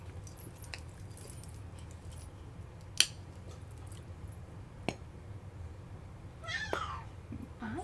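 A domestic cat meows a few short times in a room with light clinks and handling noises around it, fairly quiet against a steady low background hum.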